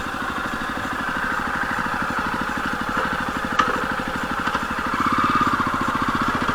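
A Jawa Perak BS6 single-cylinder motorcycle idles with a steady, low, throbbing exhaust pulse, heard up close and continuous, with a slight rise in level near the end.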